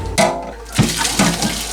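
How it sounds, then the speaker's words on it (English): Water from a ramen pot is dumped out in a few gushing splashes and pours, loud and close, with brief surges and no talking. "dump out the original water because that stuff's scummy and gross"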